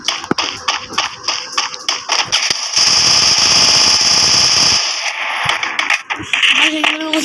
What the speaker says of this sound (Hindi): आगे वो दीवार पे गोलियां मार रहे हैं।